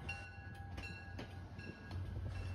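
An MBTA geometry track-inspection train rolls along the rails, heard faintly from a distance as a low rumble with light rhythmic clacks and a thin steady tonal hum, no voices.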